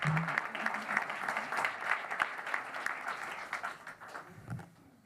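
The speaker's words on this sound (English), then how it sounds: "Big round of applause for the judges." An audience at a wearables challenge pitch event claps steadily and fairly loudly for the judges, and the sound thins and fades out by the end, with faint voices underneath.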